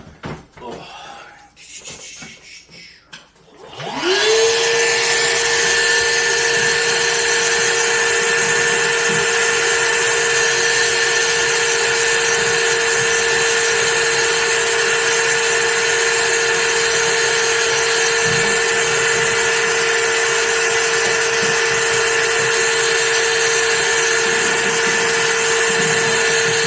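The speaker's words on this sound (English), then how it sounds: "let's get this guy vacuumed up" A vacuum cleaner starts and runs with a loud, steady whine while vacuuming a bathroom fan grille during HVAC maintenance, close up and constant after a short stretch of quieter handling noise.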